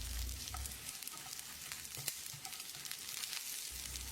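Steady sizzling of spices and garlic frying in a hot pan over medium heat for chicken curry, a continuous crackle and hiss with no talking.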